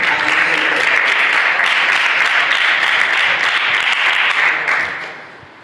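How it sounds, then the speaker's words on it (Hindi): Loud applause from a crowd welcoming a speaker at a memorial seminar in India, a dense, even wash of clapping that holds strong for several seconds and then fades out. "जोरदार तालियों के साथ उनका स्वागत करेंगे"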